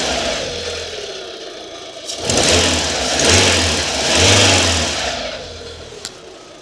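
A 230,000-mile Fiat 500 with its 1.25 engine runs close by, idling then revving in two rising swells before settling back to a steady idle, with no talking.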